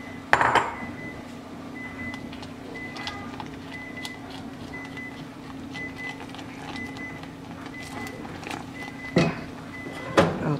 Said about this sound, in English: Now I'll add the cornstarch mixture. And I'll mix that around.